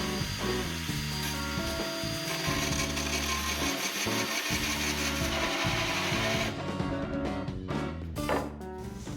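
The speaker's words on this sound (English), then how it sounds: "drill the 6-inch hole with a hole saw" A hole saw bores a 6-inch hole through a wooden cornhole board, giving a continuous, loud grinding drone that holds steady for the whole stretch and turns rougher toward the end, with no talking.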